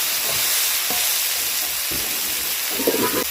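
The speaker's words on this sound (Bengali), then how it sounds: "দেখুন জল দিয়ে দিচ্ছি" Sizzling banana stem and fig curry in a pan, with short bursts and a rising hiss as water goes in, close and steady.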